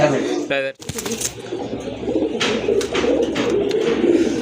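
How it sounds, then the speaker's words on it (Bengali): A pair of large pigeons for sale coo in a low, throaty burble while someone speaks over them close by, with brief rustling and bird calls mixed in. "মাশাআল্লাহ, বিগ সাইজের এক জোড়া কবুতর।"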